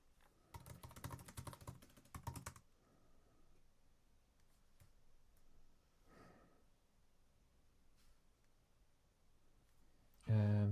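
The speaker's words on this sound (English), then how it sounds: "Let me just type that out." Rapid typing on a computer keyboard, a dense burst of close key clicks lasting about two seconds, then quiet with faint breathing and small ticks.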